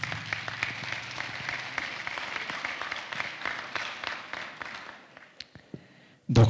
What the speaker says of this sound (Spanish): Lo recibimos con caluroso y fuerte voto de aplausos.